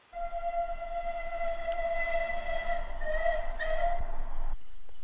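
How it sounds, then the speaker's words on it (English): A steam engine's whistle sounds across the railway yards, a long steady multi-tone blast held for over four seconds before cutting off abruptly, loud and near, with no talk. "an unfamiliar whistle sounded the yards"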